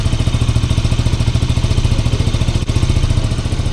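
A KTM RC 200 sport motorcycle idles close by, its engine giving a steady, soft, even pulsing throb with a light mechanical clatter and no voices.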